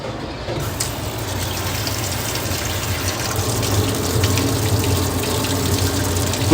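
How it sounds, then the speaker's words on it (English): Water runs steadily from a tap or pours into a pot during cooking in a busy restaurant kitchen, a continuous close gushing flow lasting throughout over a low kitchen hum. "And add a little water and salt to that."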